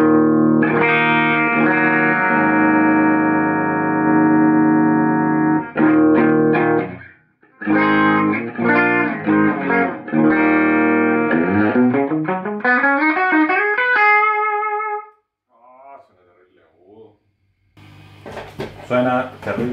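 An electric guitar plays through a Marshall Origin 50 amp with a little gain and the master turned up, giving loud distorted sustained chords, then choppy riffs and a rising run, ending with short gaps and a scratchy restart.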